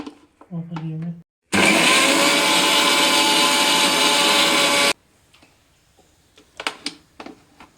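A mixer grinder grinds coconut and ginger into thoran paste, a loud, steady whirring burst lasting about three seconds, framed by quiet talk and light clatter before and after.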